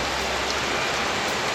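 Heavy thunderstorm rain pours in a dense, constant hiss, loud and close, with no voices or thunder over the short stretch.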